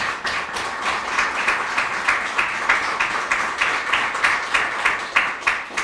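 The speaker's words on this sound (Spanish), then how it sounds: "pido un fuerte aplauso para estos compañeros también y compañeras" Applause for the organisers of an intercultural seminar, a moderate room of clapping with a steady pulse of distinct hand claps running throughout, fairly close and even in level.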